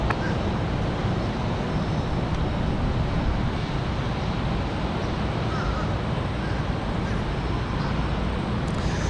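A Frontier Airbus A320 taking off from runway 23 right at Raleigh-Durham International on a windy day: a dense, broadband jet-engine roar holding steady and loud throughout, with heavy wind rumble underneath and no clear voices.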